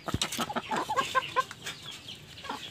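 Chickens on a small Filipino mini farm cluck in a quick run of short, close calls, loud and uneven, with no talk over them.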